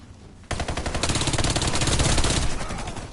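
SMG gunfire in the Warface video game, a sudden sustained burst of rapid automatic shots starting after a brief quieter moment, loud and close.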